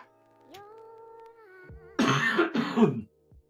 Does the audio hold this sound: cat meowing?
no